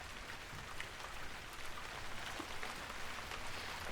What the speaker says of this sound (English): Listen to that rain come down.